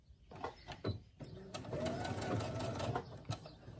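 A Brother SE1900 sewing machine stitches fabric for a face mask in short, quiet bursts of rapid mechanical whirring and ticking, close by and faint, with pauses between runs.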